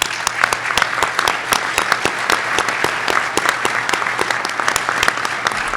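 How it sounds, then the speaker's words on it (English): A large audience at a corporate brunch in Omaha applauds loudly, with sharp individual claps standing out from a dense, sustained crowd clapping close by. "I would ask you to join me in a round of applause for Georgie"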